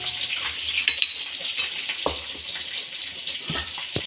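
Food fries in a pan with a bright, hissing sizzle. Several scraping stirs and a light clink of utensils come through up close, with no talking.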